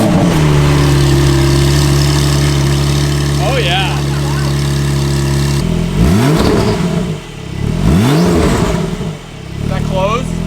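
A Porsche 992 Turbo S fitted with a titanium exhaust starts and settles into a loud, close idle, then revs rise and fall in several sweeping blips, with someone speaking briefly over the engine.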